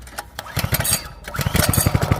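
A small engine on a lawn machine fires up after a pull-cord start with choke and settles into a loud, close, rapid chugging idle with no talking.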